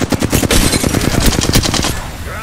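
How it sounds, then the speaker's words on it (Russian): Automatic gunfire in the Apex Legends video game, a loud, rapid, unbroken burst of shots lasting a couple of seconds. "Эй, меня стреляют!"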